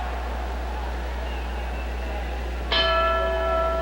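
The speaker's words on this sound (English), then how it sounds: "There's the bell." Boxing ring bell at a 1955 heavyweight fight starts the round with a single loud metallic strike that rings on, sounding after a few seconds of steady low hum and crowd murmur.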